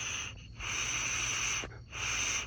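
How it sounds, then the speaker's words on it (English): Air blown by mouth through a GM car's vapor canister control valve gives a steady hissing rush in two long breaths with a short pause between, close and moderately quiet. "You can hear the air going through."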